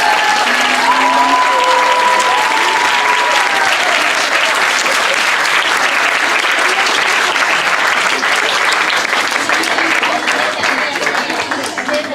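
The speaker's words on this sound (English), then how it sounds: "Please give the Gopal's glorious grandchildren once again a very big round of applause." A large audience gives a long, loud round of applause after a devotional drama for Lord Balaram's appearance day, dense clapping sustained throughout with voices and cheers mixed in early on.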